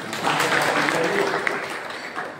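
Applause from an audience at a kirtan, a steady wash of many hands clapping throughout, fairly loud and dense, with a voice faintly mixed in.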